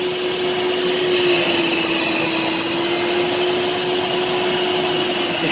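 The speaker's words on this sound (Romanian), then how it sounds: "momentul în care se face această aspirare la aspirator" A Karcher Puzzi 10/1 spray extractor vacuums car seat upholstery, a loud steady whine and rushing airflow with a constant motor tone running unbroken throughout, close up with no talk.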